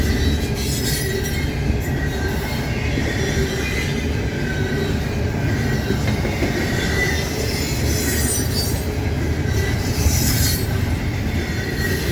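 A train rolls past a little under track speed, around 30, on an Ohio line, with a steady loud rumble of wheels on rail, faint clickety-clack and intermittent wheel squeal throughout, close by.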